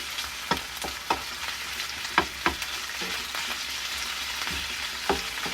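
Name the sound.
sautéing in hot oil for sotanghon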